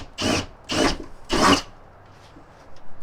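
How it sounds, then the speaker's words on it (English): A drill cutting through the sheet metal of a Honda Element tailgate, three short grinding bursts of about half a second each, close and loud, followed by quieter scraping. "So let's drill through this."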